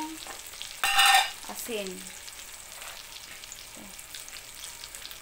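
Pork dropped into boiling cooking oil in a pan, with a loud burst of frying followed by a steady, lighter sizzle and occasional stirring, while a voice speaks briefly.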